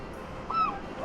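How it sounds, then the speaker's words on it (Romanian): A single brief seagull call rings out by the sea at Howth, heard over a soft, steady background of wind and surf. "Wow, pescărușii ăștia sunt foarte obraznici."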